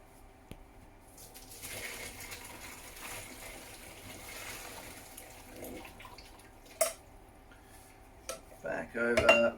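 Dishes and metal clatter in a kitchen as a pot of cooked gnocchi and water is tipped into a sieve, quiet rustling giving way to splashing, pouring and clanks toward the end.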